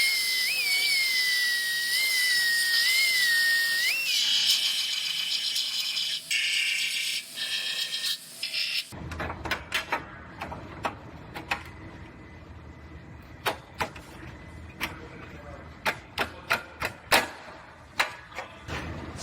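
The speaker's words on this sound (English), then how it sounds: "So I'm going to drill out those few welds and separate that" A whining power drill runs steadily, drilling out spot welds on a Subaru body, then stops, followed by a series of sharp metallic clicks and clanks at irregular intervals.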